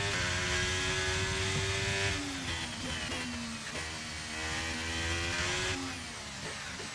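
Formula 1 race car engine in the video game F1 23 at the France circuit, a high-pitched screaming whine climbing through the revs, briefly dropping on an upshift and rising again, loud and close with no talk.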